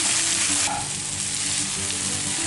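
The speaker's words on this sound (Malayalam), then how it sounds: "ആദ്യം എണ്ണയിൽ കിടന്നൊന്ന് ഇതൊന്ന് ഫ്രൈ ആയി വരണം." Potatoes frying in hot oil while being stirred, for Kerala potato mezhukkupuratti; a steady, close, dense sizzle with soft scraping of the stirring spoon, no talk.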